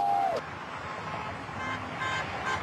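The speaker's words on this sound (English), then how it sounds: "You can hear the horns honking behind me" Car horns sound from traffic passing a union picket line, one short toot near the start and fainter tones later, over a steady roar of road noise.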